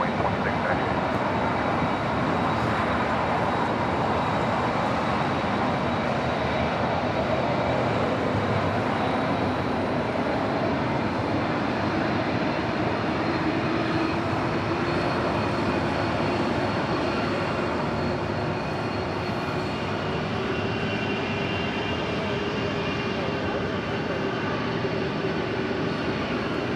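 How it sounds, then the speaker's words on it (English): An Airbus A380 taxis slowly across runway 25 left at LAX, a continuous broad jet-engine roar holding steady and loud throughout with no break, heard from a distance over the airfield. "A380 taking it nice and slow and taking a sweet time crossing over 25 left"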